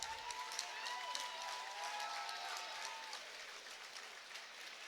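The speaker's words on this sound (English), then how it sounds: "how about a round of applause for these two great fighters?" A crowd at a mixed martial arts event applauds the two fighters after the bout, a steady, moderately faint wash of clapping with a few high tones above it.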